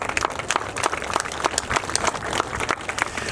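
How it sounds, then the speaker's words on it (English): Applause for volunteers at a Hmong community memorial event in Colorado, a lively crowd clapping steadily with many distinct sharp hand claps layered over a continuous wash, close and full throughout. "could I ask our volunteers to please stand so that we can recognize you with our applause?"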